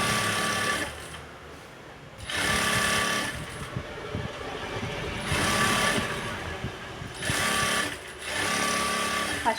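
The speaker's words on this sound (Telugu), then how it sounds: "నీట్గా ఇలా స్టిచ్ చేస్తూ ఇలా నీట్గా" A sewing machine stitches a blouse in loud bursts of rapid running, broken by short pauses between seams, with no voices.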